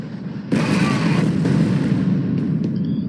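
A sudden loud grenade blast in the video game F.E.A.R. Extraction Point erupts after a quiet moment, followed by a sustained rumbling roar and debris-like crackle that slowly fades.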